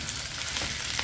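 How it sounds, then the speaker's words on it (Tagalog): Sliced pork belly (pansita de cerdo) sizzles and fries in a pan, a dense, steady, close crackling hiss with no talking over it. "pork, pork. Yan, lagay ko na, gigisa ko na yan."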